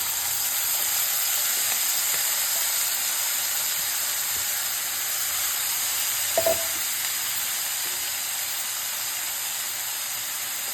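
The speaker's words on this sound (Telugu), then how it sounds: "నూనె కొంచెం వేడెక్కిన తర్వాత మనము పిండి పెట్టుకున్న ఈ అరటి పువ్వు ముక్కలన్నీ వేసేయాలి" Banana flower pieces fry in heated oil, producing a steady, close, continuous sizzle and hiss throughout, with one brief clink of a utensil partway through and no talking.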